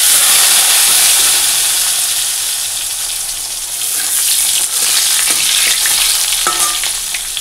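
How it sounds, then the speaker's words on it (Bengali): Black cumin seeds tempering in hot oil already used for frying fish and teasel gourd, a loud continuous sizzle and hiss close up, with scattered stirring clicks toward the end. "ওই কাঁকরোল ভাজা মাছ ভাজা তেলের মধ্যেই মাছের তরকারি করে নেব। ফোড়নে দিলাম কালো জিরে।"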